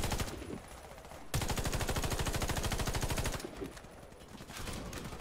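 Sustained M4A1 automatic fire in the video game Warface, a loud, rapid rhythmic stream of shots from about 1.3 to 3.5 seconds, with scattered gunfire and battle noise before and after.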